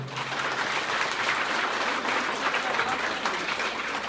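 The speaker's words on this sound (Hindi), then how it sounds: "पहले एक बार खुद के लिए तालियां बजाओ देखें" Dense, steady applause from a hall full of students clapping for themselves at a school farewell event, a continuous roar of many hands at even loudness throughout.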